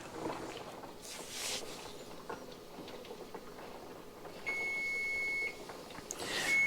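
A kitchen timer, set during pressure canning of raw-packed peas, beeps in a steady tone lasting about a second, with a second beep starting just as the clip ends, close and clear over quiet room noise.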